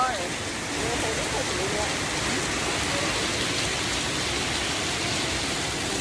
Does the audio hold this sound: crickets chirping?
no